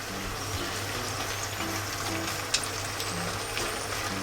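Potato starch slurry hits a bean sprout stir-fry over high heat, producing a continuous, even sizzle and bubbling hiss with no pauses, close and moderately loud.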